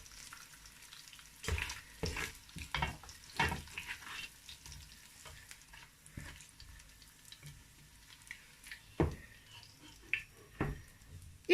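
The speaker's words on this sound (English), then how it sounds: "till golden brown. So I'm going to scoop it out now and then fry the beef" Onions frying in oil in a pot for rice and spaghetti jollof, a steady close sizzle with bursts of crackle and spatter as they are stirred, no talking.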